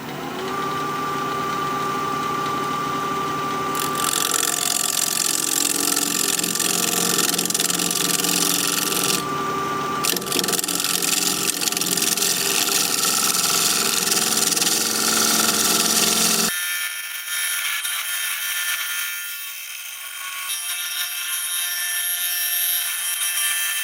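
A wood lathe spins a wooden bowl at 1300 RPM while a tool thins the wall, producing a steady whirring hum with harsh scraping cuts that stop and start, then drop to a quieter motor drone near the end.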